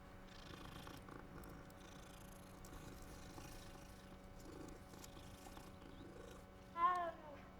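Soft, steady purring from a cat in the game Hogwarts Legacy, a low continuous rumble running under game music, with a brief brighter chirp-like sound near the end.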